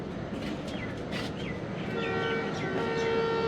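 The Jaffar Express passenger train runs from Peshawar Cantt toward Lahore with a steady rumble and rattle of rail cars. A sustained horn-like tone rises over it partway through, and no one speaks.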